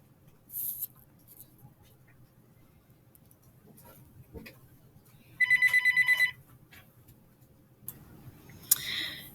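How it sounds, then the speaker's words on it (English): A phone rings in a quiet room, one short burst of rapid, pulsing electronic trills lasting about a second, with faint rustles and clicks before and after. "you may notice that my phone rang"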